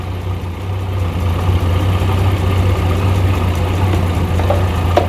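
A 1989 Jeep Comanche engine idles on alternator power with the battery disconnected, a steady low rumble with a firm, even hum that swells slightly after the first second and runs on close by without talk.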